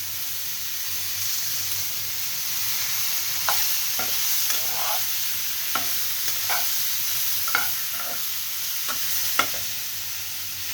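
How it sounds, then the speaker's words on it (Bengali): Taro leaves are stirred into a shrimp curry frying in a pot. A steady sizzle runs throughout, with light scrapes and taps from the stirring spoon close by, and nobody speaks. "এইবার আমি কচু, দুধ কচু টাইপের এই পাতাগুলোকে মেশাবো"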